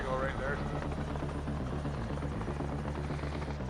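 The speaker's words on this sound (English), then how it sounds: "Helicopter coming." A helicopter's rotor thumps loud and steady with a low engine drone, the chopping beat continuous throughout.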